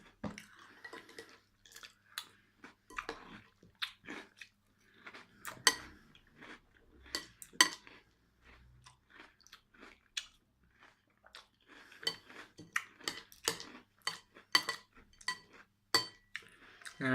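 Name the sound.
chewing crunchy cereal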